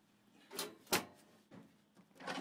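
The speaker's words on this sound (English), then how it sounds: "And all the drawers slide real easy." Wooden drawers in a 1972 Rambler camper slide open and shut several times in quick succession, giving soft close scrapes and thumps in a quiet interior.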